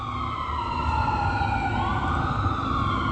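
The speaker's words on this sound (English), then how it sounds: "but this is siren" A wailing emergency siren from an American Medical Response ambulance, loud and steady throughout with rising and falling tones over a constant low rumble of traffic, no voices.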